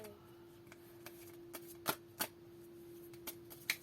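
Tarot cards being shuffled by hand in a quiet room: a string of soft, irregular riffling snaps and flicks, close and faint, over a steady background hum.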